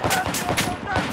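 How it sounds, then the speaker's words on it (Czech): Rapid automatic gunfire and overlapping shots from a Battlefield match on the Oman map, loud and dense throughout, with voices talking over the bursts. "Roko ještě na Ačku střílí"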